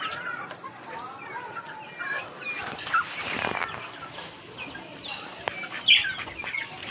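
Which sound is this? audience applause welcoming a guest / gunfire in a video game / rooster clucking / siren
rooster clucking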